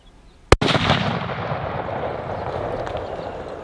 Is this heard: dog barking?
no